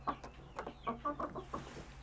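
A rooster clucks softly in a quick run of short, choppy notes, faint and fairly near, with no voices.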